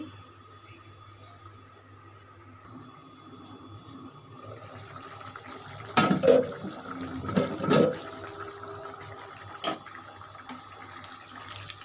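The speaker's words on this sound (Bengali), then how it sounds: "এখন আমি পরিমাণ মতো পানি দিয়ে দেব" Water poured into a pot of parboiled nazir rice and mung dal for khichuri, a rushing gush that starts partway through and swells with a few louder splashing surges before easing off.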